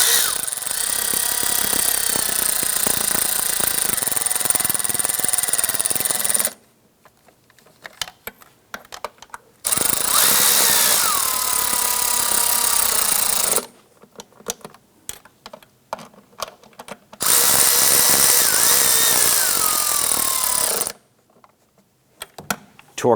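A power tool tightens the fuel rail bolts on a 2007-2012 Nissan Versa in a crisscross pattern, giving three long, loud whirring bursts of several seconds each. Each burst rises and falls in pitch, and short quiet gaps with small clicks separate them.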